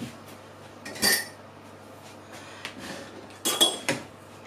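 Spoon clinking and scraping against a bowl while mixing cheese into cheesecake batter, with sharp intermittent clinks and clatters over a quiet background.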